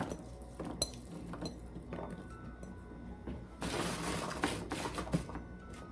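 Potatoes seasoned with salt, pepper, garlic powder and onion powder get spread onto a baking pan, heard as scattered metallic clinks, scrapes and soft taps, with a busier rustling burst midway.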